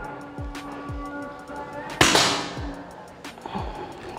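Greyhound imported air rifle fired at a target, two sharp cracks with short clanks and thuds around them, close and fairly loud over a steady background hum.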